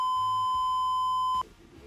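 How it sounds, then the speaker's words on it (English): A single sustained censor bleep, a pure steady tone lasting over a second, cuts over a spoken name in a casual mic'd-up conversation, then ends abruptly into quiet room sound. "we'll beep out the name, and we'll also beep out what I'm about to say"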